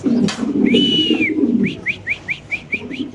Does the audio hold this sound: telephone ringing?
no